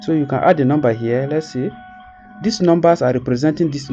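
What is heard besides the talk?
No distinct noise like a dog, phone or traffic.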